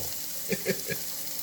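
Onions, garlic and peppers frying in a pan for a shrimp and sausage penne Alfredo, a steady soft sizzle with a few brief clattering stirs or scrapes near the middle, fairly quiet throughout.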